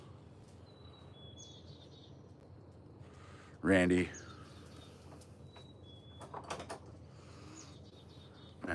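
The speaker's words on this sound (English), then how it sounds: "You can hear the chickadees going crazy out here too" Chickadees calling outdoors by a hummingbird feeder, several thin high whistled notes spread through the clip over a low background hum, with a loud short spoken interruption near the middle.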